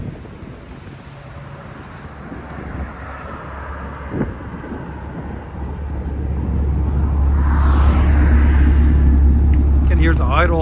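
A Ford F-350 with a 7.3L gas V8 idles steadily with a louder exhaust, its low rumble building in the second half, and wind noise brushes the microphone.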